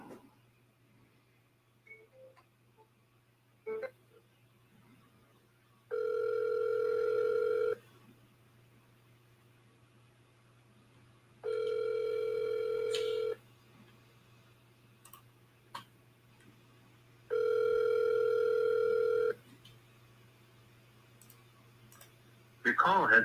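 A telephone rings back on an outgoing call, three evenly spaced long electronic ring tones separated by quiet gaps, over a faint low hum with a few small clicks.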